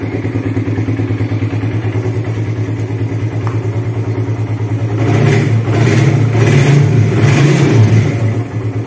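A restored 2005 Suzuki Satria FU CBU motorcycle engine running close and loud, a steady idle with rapid firing pulses that swells slightly louder midway before settling back, with no talk.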